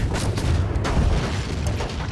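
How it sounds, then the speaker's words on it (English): Ship cannons firing in the naval combat game Blackwake, a dense, loud rumble of overlapping booms in close succession with no pause between shots. "Right side cannons, some of them loaded, fire all of them."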